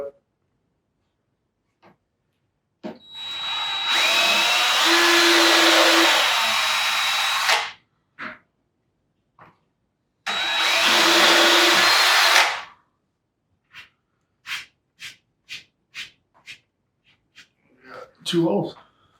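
A power drill with a countersink bit bores screw holes into wood for a mini fridge table, two long whirring bursts of several seconds each at close range, followed by scattered clicks and handling knocks.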